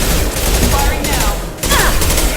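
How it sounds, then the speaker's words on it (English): Gunfire in the video game Mass Effect 2, loud rapid bursts of shots blending into a dense barrage, with brief radio-like voices mixed in. "Firing now."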